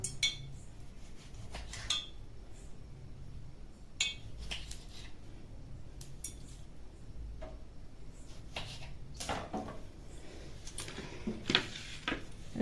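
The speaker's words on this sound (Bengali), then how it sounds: "টমেটো তার জন্য টমেটোটা কেটে নিচ্ছে সাবধানে কাটবে মা" A knife cuts a tomato on a board in a home kitchen, giving faint, irregular ticks and taps spread across the clip, with quiet background noise.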